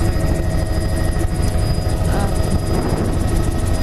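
Steady, loud helicopter rotor and engine roar heard from inside the cabin, continuous throughout with a rapid chopping pulse.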